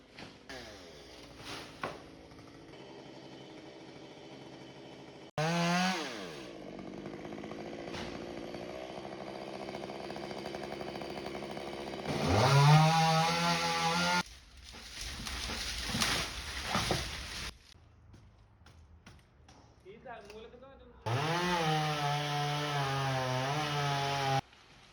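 Up in a coconut tree in Kerala, a chainsaw revs in several loud bursts, each rising to a close, harsh buzzing whine and then cutting off, separated by quieter idling gaps.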